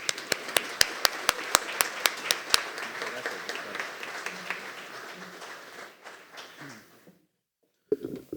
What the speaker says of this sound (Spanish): los dejo con un calurosísimo aplauso con el doctor Álvaro Ramos Chávez